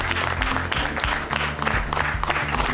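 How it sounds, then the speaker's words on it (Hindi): Audience applause welcoming a guest at the iBoss Pokhara conference 2022, a steady, dense wash of clapping from a large crowd that holds throughout, with a low steady tone underneath. "पनि स्वागत गर्नुहोला ताली बजाएर"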